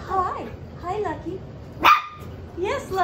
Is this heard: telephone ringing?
no